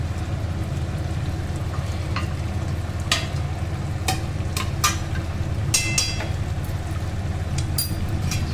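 Broccoli curry with ghee and garam masala stirred in a hot pan, a loud continuous sizzle broken by sharp spoon scrapes and clinks at irregular intervals.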